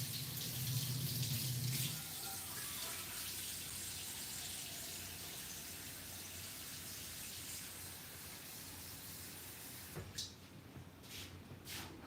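Water runs steadily from a tap into a sink, a broad continuous rush that stays fairly loud and even, with a small splash near the start and fading toward the end as the flow is cut off.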